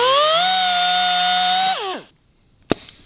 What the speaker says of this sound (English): Should give it a Dremel out, that'll be easier.